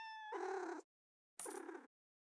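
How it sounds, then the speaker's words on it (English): A video-game cat gives two short, bright meows when petted, separated by a brief silence, with nothing else heard. "Pet a kitty cat."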